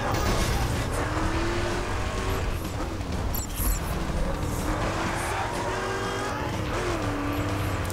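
Car driving in The Crew, a steady loud engine drone with shifting tone and occasional tire noise, continuous throughout.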